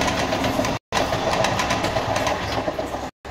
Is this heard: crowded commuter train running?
yes